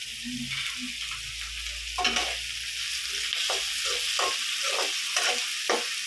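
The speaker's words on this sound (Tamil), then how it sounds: "வெங்காயம் வதங்கிடுச்சு." Onions sauté in a pan with a continuous sizzle, while a spoon scrapes and stirs them in repeated short strokes close by.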